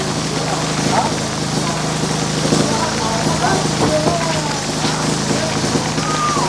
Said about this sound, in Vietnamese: cơn mưa nó đang rất là nặng hạt mọi người ạ